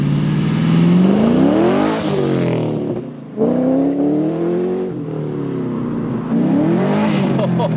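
A car with a stock LS3 V8 revs up and down in repeated rising and falling sweeps, loud and close, the engine note climbing and easing between pulls.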